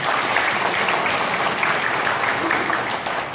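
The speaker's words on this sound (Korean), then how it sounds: "여러분 뜨거운 박수 한번 부탁드리겠습니다." A crowd applauds warmly at a high school alumni association president's inauguration ceremony, with steady, dense clapping that carries on throughout.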